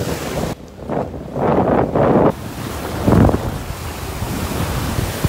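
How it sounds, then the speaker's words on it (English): Strong wind gusts buffet the microphone on a beach in North Naples, Florida, loud rumbling bursts over a steady wash of surf, with no talking. "That wind is really blowing me around here."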